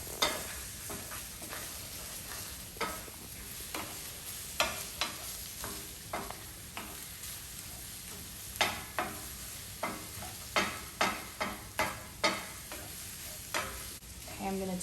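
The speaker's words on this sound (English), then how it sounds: "once you notice that the edges begin to set, that's when you want to start moving the egg around" Eggs for migas stirred in a frying pan, a steady sizzle under repeated scraping strokes of a utensil that grow quicker and more regular toward the end, close and clear with no talking.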